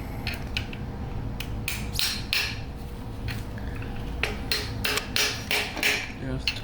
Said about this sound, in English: We're gonna try and hit it in with a hammer.